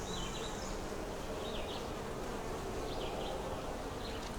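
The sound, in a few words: honeybees buzzing at an open nuc hive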